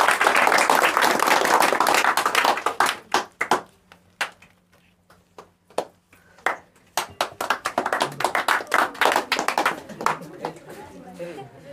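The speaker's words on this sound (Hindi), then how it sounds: "इनके लिए एक जोरदार ताली।" At a student award ceremony, the Pratibha Samman Samaroh 2023, a full burst of crowd clapping thins after a few seconds into scattered, uneven individual claps echoing in the hall.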